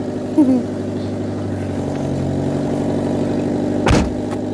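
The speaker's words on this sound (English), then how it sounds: "We can hear the drive being taken up." A Mitsubishi Pajero Junior engine idles steadily with a low hum, then a brief clunk and rise in engine noise as the automatic transmission engages drive near the end.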